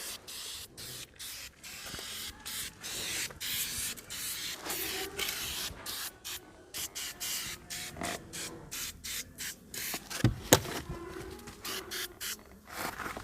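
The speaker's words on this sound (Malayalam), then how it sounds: "ഷെയ്ക്ക് ചെയ്ത് ഒരു 10-15 സെൻറ്റിമീറ്റർ ഡിസ്റ്റൻസിൽ വെച്ച് ഫുള്ളായിട്ട് അടിക്കുക ആദ്യം" 3M foam cleaner sprayed onto the interior of a Maruti Suzuki Swift in repeated hissing bursts, the broad aerosol spray pulsing on and off close up with short gaps between blasts.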